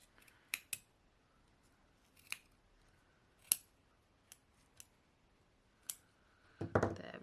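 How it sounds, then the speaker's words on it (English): Sharp scissors snip through yarn wound around a pom-pom maker in a series of crisp, irregular cuts, about eight in all, close and alone in a quiet room, with a rustle of handling at the end. "Follow that groove around and snip away until you've gone all the way around."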